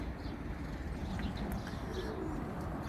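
Young pigeons coo softly among a steady background hum, with a few faint chirps over roughly three seconds.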